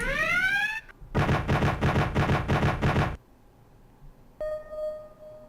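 Helicopter guns firing on an aircraft in Command: Modern Air / Naval Operations, a rising tone then a steady loud stuttering burst of rapid shots lasting about two seconds, followed by a beeping alert tone.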